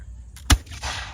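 A single sharp, loud musket-style shot cracks out from reenactors at a farm museum, followed by a brief echoing tail and faint background noise.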